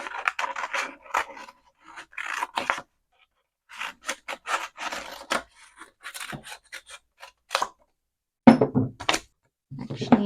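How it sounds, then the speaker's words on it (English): Scissors cutting a traced shape out of fabric for a journal: short bursts of snipping and rustling, close and fairly quiet, broken by pauses and a few soft thunks. "And then just cut out this shape."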